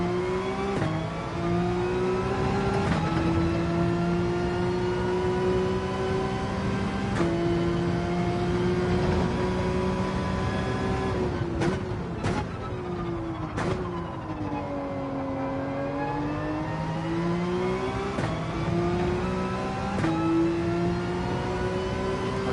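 A Porsche GT3 race car in a VR racing game gives a steady, loud gearbox whine with engine drone. The pitch holds, dips and rises as the car brakes and accelerates, with occasional sharp clicks and no talk.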